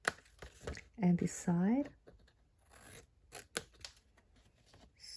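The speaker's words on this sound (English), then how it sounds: "So I'm just going to angle cut this a little bit" Scissors snip paper at an angle for a 6x6 paper pocket insert, a few short crisp cuts near the start between bursts of a woman's speech, with quieter rustling and handling afterward.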